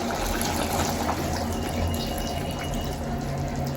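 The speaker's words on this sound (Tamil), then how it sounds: "இந்த முதல் பாலை கொஞ்சமாக விடுவோம்" First coconut milk pours into a simmering Jaffna-style chicken curry, a steady close liquid splashing and trickling sound that continues without a break, with no talking.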